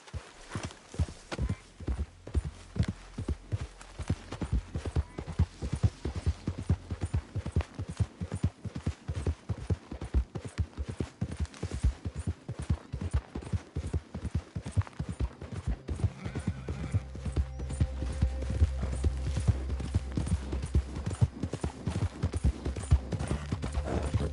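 A horse gallops in Red Dead Redemption II, rapid rhythmic hoofbeats pounding steadily and close throughout, with a neigh and low rumbling beneath.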